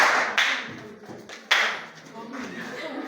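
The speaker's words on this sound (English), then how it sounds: "Clap for her." A classroom of students clapping for a pupil who answered correctly, a short ragged round of applause heard under the teacher's voice.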